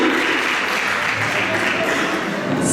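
An audience at a children's event keeps clapping for Sanchita ma'am. The applause is a steady, fairly loud wash of many hands throughout, with faint voices mixed underneath.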